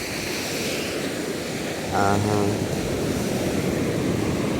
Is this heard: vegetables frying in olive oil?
no